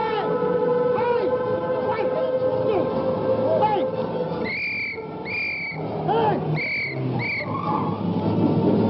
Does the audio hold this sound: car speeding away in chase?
yes